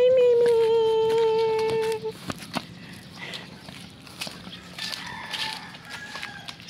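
A rooster crows once in a long falling call at the start, then chickens cluck softly amid footsteps and faint background noise on a farm with goats nearby.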